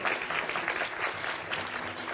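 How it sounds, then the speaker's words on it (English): Sustained applause from an audience at an annual forum after a panel session, dense steady clapping throughout with no voices over it. "Please give them another round of applause"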